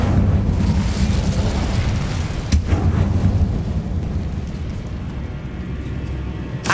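Incendio fire spell cast in Hogwarts Legacy, a loud continuous roaring, rumbling blast with a sharp crack near the middle, sustained over several seconds with no talk.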